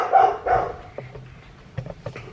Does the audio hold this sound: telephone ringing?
no